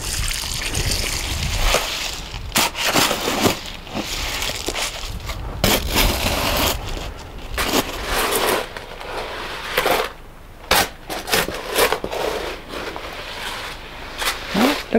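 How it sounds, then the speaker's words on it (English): Concrete being mixed by hand from ballast, cement and water in a garden, with repeated gritty scraping, crunching and wet slapping strokes in an uneven rhythm, loud and close. "Now we'll mix 2 bags of ballast with 1/3 of a bag of cement."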